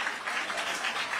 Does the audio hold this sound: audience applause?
yes